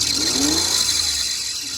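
A Firebird car engine runs with a mid-pitched revving swell that rises and eases off, close and steady over a constant high hiss, with no voices.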